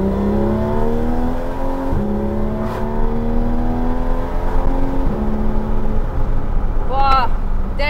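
A Porsche GT3 RS in PDK Sport mode accelerates hard, its loud engine note climbing steeply through the rev range, broken by two quick gear changes before pulling on with a rising howl.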